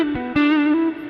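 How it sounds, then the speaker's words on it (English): Clean electric guitar tone with a slight edge, two plucked notes swelling into a sustained, harmonically rich chord that rings on under a reverb tail, played alone and fairly loud. "clean, slightly edgy guitar tone."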